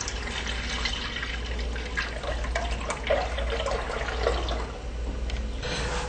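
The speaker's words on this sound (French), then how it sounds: "Il faut donc verser notre lait dans le chaudron" Two litres of milk pour into a cauldron-style pot with a steady liquid splashing and gurgling that lasts the whole clip, close and moderately loud.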